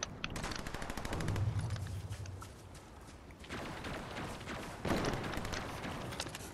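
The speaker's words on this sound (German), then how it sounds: "Ach, Mann, hör auf zu schießen, Mann, du Arschloch." Rapid gunfire bursts in a Fortnite match, several volleys of automatic shots with short pauses between them, fairly close and loud, with faint game sounds underneath.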